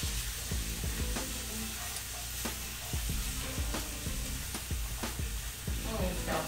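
Vegetables and garlic sizzle steadily in a single pan with chicken, a constant frying hiss broken by repeated sharp scraping stirs and clicks of a utensil against the pan, close and fairly loud throughout.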